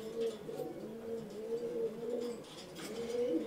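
Soft, repeated low cooing of several pigeons in a pigeon loft, overlapping in a steady murmur, fairly faint and close with a little background rustle.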